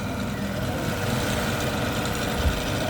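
A PS800-8045 automatic sewing machine running, a steady close mechanical hum and whir with faint rapid ticking, fairly quiet and continuous, no talk.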